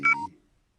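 A phone sounds a low battery warning: a single short electronic beep with two quick tones, quiet and alone, fading into silence.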